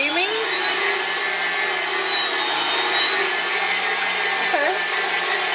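A Hamilton Beach stand mixer whirs steadily on its creaming speed, a loud, close, continuous motor whine with a high tonal hum that holds even for the whole stretch.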